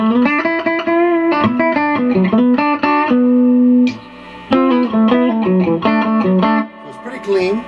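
Electric guitar played through the clean channel of a Peavey Classic 30 amp with reverb, a run of clear sustained notes and chords with a brief gap near the four-second mark, loud and close.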